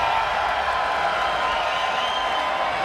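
Esports tournament crowd at a PUBG invitational in Oakland, a steady wash of cheering and clapping that stays loud and dense throughout with no clear breaks.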